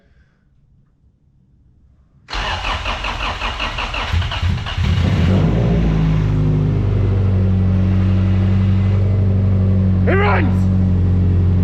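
A car engine with a newly installed fuel pump cranks after a quiet moment, catches, and settles into a loud, steady, close running rumble that grows slightly fuller, with a person speaking briefly over it.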